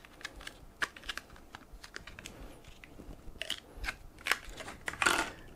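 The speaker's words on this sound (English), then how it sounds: "get your processor out of its clamshell pack." An Intel LGA1200 desktop processor is pulled from its plastic clamshell pack, giving a run of close, crisp plastic clicks, crackles and snaps, with a louder crinkling burst near the end.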